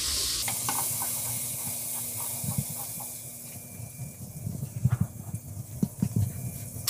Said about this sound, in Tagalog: maglagay muna tayo ng margarine sa mainit na kaserola